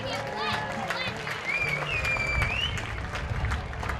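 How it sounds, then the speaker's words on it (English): A stadium crowd at a Nashua Silver Knights championship game applauds and cheers for the winners in a continuous roar, with a loud, sliding whistle cutting through and voices mixed in. "How about another big round of applause, folks?"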